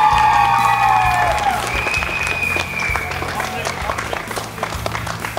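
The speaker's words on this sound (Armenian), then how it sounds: "Եվ նաև ծափարենք խմբին եւ ասենք շնորհակալություն" A studio audience at a televised talent gala claps for a dance group, a dense burst of applause that fades over a few seconds while a host's voice and music carry on over it.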